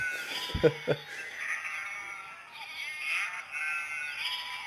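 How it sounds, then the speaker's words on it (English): A couple of short sheep bleats early on, followed by thin, sustained tones, played through a budget model-railway sound system loudspeaker in a Hornby vent van. "Let's listen to the sheep on their own."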